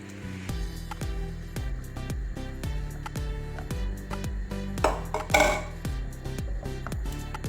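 Custard and milk being mixed in a pan for an Arabian bread pudding, a spoon scraping and knocking against the metal in a steady, regular rhythm of clinks, close and fairly loud with no talking.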